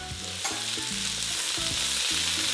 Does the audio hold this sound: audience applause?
no